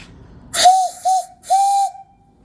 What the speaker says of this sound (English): Whistle works good.